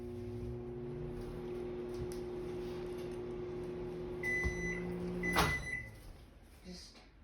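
A microwave oven hums steadily while melting cheese on a grilled cheese sandwich, a close, even drone with a faint tonal whine, ending in a clunk, a bright beep and a door opening.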